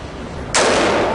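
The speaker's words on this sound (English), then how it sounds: "I'm about to shoot an AR15" A single loud, close gunshot from a Daniel Defense DDM4V11 AR-15 rifle fitted with a quad rail and red dot sight, breaking sharply over steady background hiss and leaving a long bright tail.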